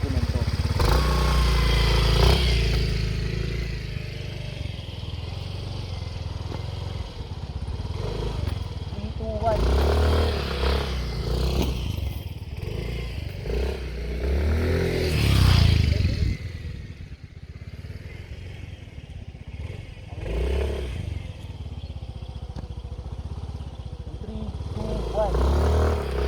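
A motorcycle engine revs and accelerates in bursts for a seated wheelie on concrete, with loud surges and clatter under ongoing talk.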